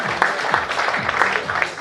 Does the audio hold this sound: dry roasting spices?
no